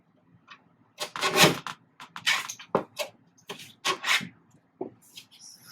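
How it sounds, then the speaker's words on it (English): Paper for a Christmas mini album is trimmed with a series of short, close scraping and cutting strokes, separated by brief gaps and fairly quiet overall. "I'm just going to trim a tiny bit off."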